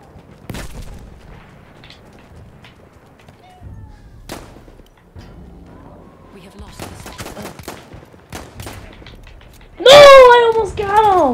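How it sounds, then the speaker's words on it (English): Rapid bursts of full-auto pistol fire in Battlefield 1, clustered sharp cracks in quick runs amid other distant gunfire and game sounds, with someone talking over parts of it. "This is a stupid full auto pistol"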